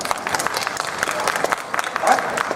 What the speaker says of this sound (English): Please applaud if you think it should be Sauron.